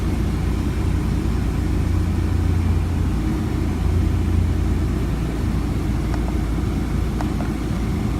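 A 2012 Jeep Liberty engine runs with a steady low rumble close by, with a few faint clicks later on and no talk.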